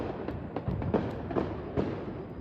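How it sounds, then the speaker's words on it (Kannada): Firecrackers burst for a combined birthday and New Year celebration, a series of sharp pops and thuds spread over a couple of seconds at moderate distance, with no one talking. "ನಿಮ್ಮ ಬರ್ಡೇಗೆ ಪಟಾಕಿನೆಲ್ಲ ಹೊಡಿಸ್ತಾ ಇದ್ದೀನಿ"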